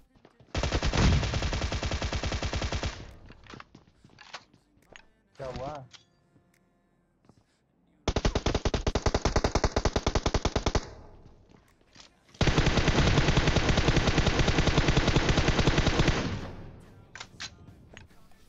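Automatic gunfire in the mobile game PUBG Mobile comes in several loud, sustained bursts separated by short gaps, with a few single shots and brief quieter moments between them.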